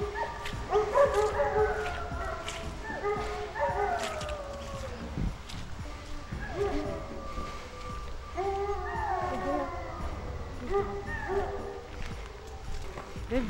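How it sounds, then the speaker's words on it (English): Guard dogs on an Australian rural property barking and yipping repeatedly at close range, several overlapping voices in bursts, with people talking in the background and outdoor ambience underneath. "They're very good guard dogs."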